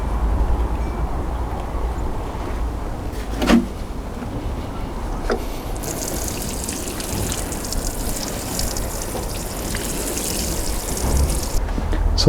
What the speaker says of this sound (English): the last thing to do is just to give the seeds a good watering